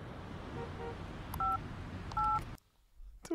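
Telephone keypad dialing tones from an old television advert, with two long beeps over a muffled background hum and a few fainter tones before it. Everything drops to near silence, then a brief sharp burst follows.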